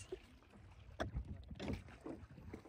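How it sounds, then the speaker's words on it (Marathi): A boat rowed by hand by Gorakhdada moves over water with faint, close splashes and oar knocks amid soft wind and rumble, quiet overall, with no speech. "गोरखदादा एवढं सुंदर बोट चालवतात ना"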